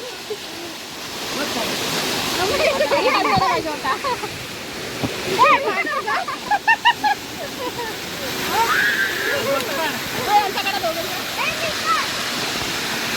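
A rushing waterfall gives a constant, full roar of falling water, heard up close. People talk and laugh loudly over it.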